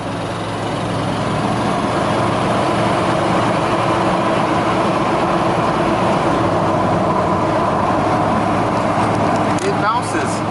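Lifted classic Ford F150 dentside 4x4 pickup, engine rumbling steadily while driving, a loud continuous low drone with road and cabin noise throughout.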